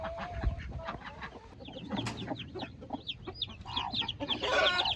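A Wyandotte hen clucks softly among her newly hatched chicks, whose rapid high peeps chirp over and around her low calls, close by in a farmyard setting.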